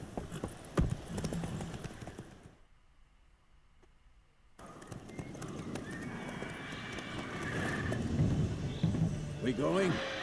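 Roach, a horse in The Witcher 3: The Wild Hunt, clip-clops along with steady hoofbeats and whinnies once, close by, with a brief quiet gap midway and talk over parts of it.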